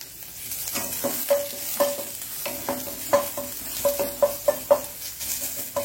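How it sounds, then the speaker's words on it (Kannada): Onion frying in hot coconut oil while being stirred, with repeated scraping strokes against the pan over a steady close sizzle, no voices. "ಈಗ ಆ ತೆಂಗಿನ ಎಣ್ಣೆಯಲ್ಲಿ ಸ್ವಲ್ಪ ಒಂದು ಅರ್ಧ ಗೆಡ್ಡೆಯಷ್ಟು, ಸಣ್ಣ ಗೆಡ್ಡೆಯಷ್ಟು ಈರುಳ್ಳಿಯನ್ನು ಹೀಗೆ ಹಾಕೊಳ್ಳೋಣ"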